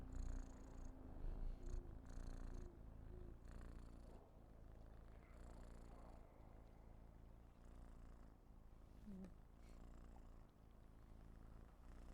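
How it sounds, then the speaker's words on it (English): Tuna, a pet cat, purrs softly and close to the microphone, a faint rhythmic rumbling purr that carries on steadily, pulsing with each breath. "I think Tuna said purr."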